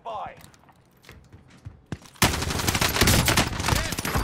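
AS44 rifle in the video game Warzone fires in a sustained, loud rapid burst after a quieter stretch of scattered shots and game noise, the automatic fire dense and continuous to the end.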